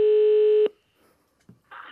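Outgoing phone call with a loud steady ring tone for well over half a second, then near silence before faint clicks and line noise return.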